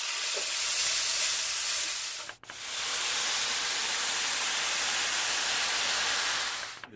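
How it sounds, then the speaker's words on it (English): Meat for taco sliders browns in a hot pan, making a steady loud broadband sizzle that runs close and constant, with a brief dip partway through, and no voices over it. "Now we just start to brown the meat."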